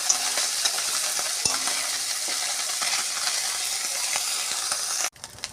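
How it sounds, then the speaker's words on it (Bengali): Small chuno fish spattering in hot oil after being turned in the pan: a steady close sizzle with scattered crackles and a few clinks, cut off abruptly near the end, with no talk. "এক পিঠ হয়ে গেছে, আর একটা উল্টে দিই"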